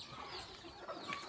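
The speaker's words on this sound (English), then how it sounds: "And then here's a hen and chicks." Blue laced Wyandotte chickens clucking softly at close range, a brief run of low murmuring clucks in a quiet pen with no talk.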